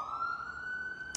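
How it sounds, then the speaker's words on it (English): A steady siren tone holds distantly for about a second, faint against quiet background noise. "How does she make sirens less loud when they..."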